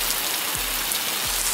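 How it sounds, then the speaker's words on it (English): Rain falls steadily in Coorg, Karnataka, a dense close hiss of drops pattering on surfaces, even and unbroken for a brief moment before it cuts off. "Is it raining in Coorg?"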